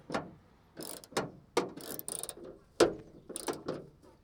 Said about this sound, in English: So we're going to take the 8mm bolts out now.